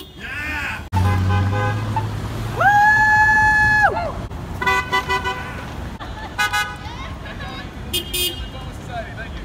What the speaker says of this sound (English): Let's see how many honks we can get